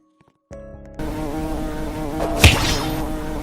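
Bees in a video game give off a loud, steady insect buzz that begins abruptly and holds throughout, swelling briefly near the middle with a sharper burst, with no talk over it.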